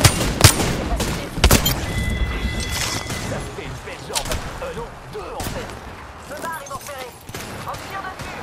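Video game gunfire crackles in sharp bursts, loudest near the start and again around the second mark, then settles into scattered shots and impacts under game sounds and voices.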